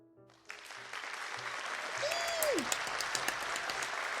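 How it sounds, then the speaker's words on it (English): A ballet recital audience breaks into applause after a dance number. The clapping starts abruptly, then builds into a dense, sustained wash, and a brief whistle or cheer rises above it partway through. "a round of applause goes up from the audience"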